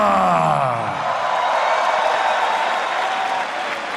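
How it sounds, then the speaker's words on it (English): A crowd cheers and applauds for a fighter's introduction at an MMA event, a steady loud wash of clapping and yelling that holds through the whole stretch. "make some noise for Meilleur."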